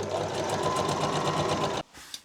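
A sewing machine stitches the back seam of a 1960s mod cape, a close, steady rapid whirring hum that stops abruptly, leaving a brief hush and a faint click.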